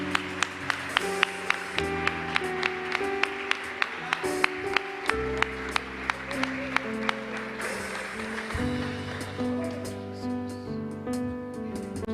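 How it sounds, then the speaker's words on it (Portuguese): A church congregation claps in steady rhythm along with loud worship music during a service, the regular beats of the clapping continuing throughout. "E a igreja aplauda bem forte ao Senhor Jesus"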